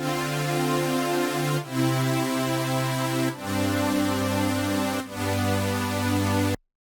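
A synth pad preset called chord takeaway, a saw wave with attack, detune and added noise for crisp highs, plays four sustained chords in turn, each held about a second and a half with brief gaps, alone and fairly loud.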